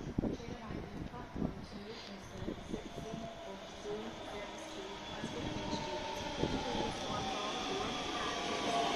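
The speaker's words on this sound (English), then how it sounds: "The train is now off to Glasgow Queen Street." A passenger train pulls away bound for Glasgow Queen Street, a steady rumble and rail noise building gradually, close by, with faint voices in the background.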